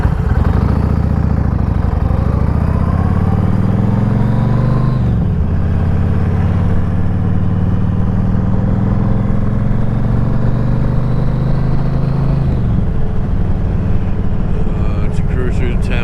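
A motorcycle engine drones steadily while cruising through town, its pitch climbing and dropping with gear changes. A rider talks over the loud, close engine noise.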